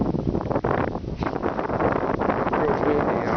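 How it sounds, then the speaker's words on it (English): Strong wind gusts buffet the microphone outdoors beside a brick house under tuckpointing restoration in Kirklin, Indiana, a loud continuous rumbling roar with rustling and no speech. "Real windy out here."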